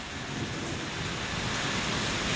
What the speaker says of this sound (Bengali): অনেকক্ষণ ধরে বৃষ্টি গোর গোর গোর গোর গোর করে ডাকতেছে